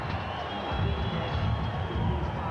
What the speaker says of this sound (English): It's not an overwhelming cheer, but it's certainly in Tyson's favor.